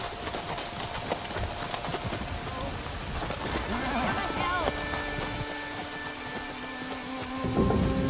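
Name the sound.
storm with rain and thunder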